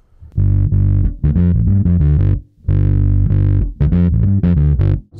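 Bass guitar through an EarthQuaker Devices Blumes Low Signal Shredder pedal, played alone as loud, driven phrases of plucked notes with short gaps, carrying a gritty, lightly distorted tone with added top end.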